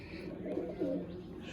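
Racing pigeons of a champion bloodline in a competition loft give a soft, faint coo or two, brief and low against quiet background noise.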